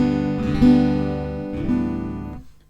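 Acoustic guitar strummed in open G tuning, two ringing chord strums with a full, sustained tone, played solo with no voices.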